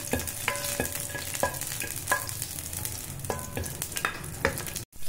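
Green chillies hit hot oil in a pan for masala vegetable oats, sizzling steadily up close while a spatula stirs and taps the pan in irregular knocks.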